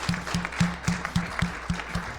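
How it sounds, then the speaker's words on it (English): Audience applause after a live panel recording at CONEXPO in Las Vegas: steady crowd clapping with a rhythmic, pulsing texture, moderately loud and alone. "Please give them a round of applause."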